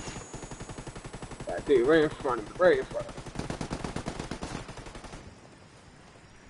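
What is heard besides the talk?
gunfire in the video game Ghost Recon Ghost War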